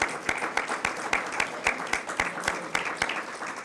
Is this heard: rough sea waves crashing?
no